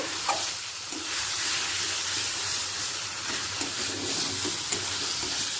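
Spice paste fries in a hot pan with a loud, steady sizzle and hiss, close up, with faint stirring underneath and no voices, continuous from start to end.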